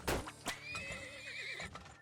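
Horse whinnies and neighs from the video game Turmoil, with a loud snort at the start and a drawn-out whinny through the middle, plus clip-clop hoof sounds.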